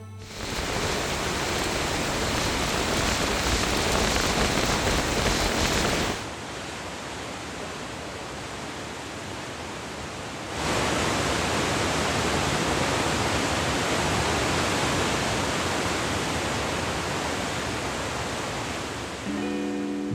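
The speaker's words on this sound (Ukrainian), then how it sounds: "просто посеред дороги помічаємо ще один водоспад" Steady roaring rush of a roadside waterfall in Yellowstone, loud and constant, with its level stepping down and back up partway through.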